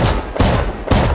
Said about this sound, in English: There's a shotgun trap.